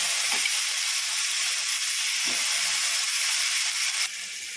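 Raw banana going into a pan of sautéed ginger and garlic, a steady loud hissing sizzle with a couple of brief stir knocks, dropping slightly near the end.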